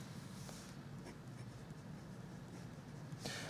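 A bronze fountain pen with a steel Jowo nib moves across paper in a quiet, close scratchy glide, with a couple of brief louder strokes.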